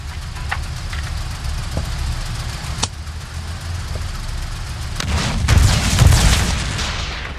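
Booming cannon fire from a light tank video game: a single sharp shot early on, then a heavier, rumbling burst of explosions later, all over a steady engine drone.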